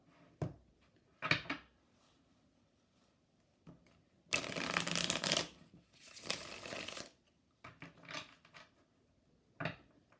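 Tarot cards being shuffled by hand: sharp papery riffles and snaps in short bursts, with two longer, louder stretches of dense shuffling in the middle, close and clear with no talking.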